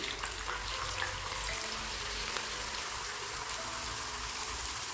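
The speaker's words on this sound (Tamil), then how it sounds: "இதே போல் அடுத்த பேட்ச் நம்ம பொரிச்சு எடுத்துக்கலாம்." Continuous bright crackling and sizzling of potato chips frying in oil, steady and close, with tiny popping spatters throughout.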